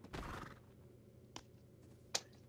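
A horse neighs briefly in ARK Survival Evolved, one loud whinny at the start of the clip, followed by a couple of short sharp in-game clicks or knocks.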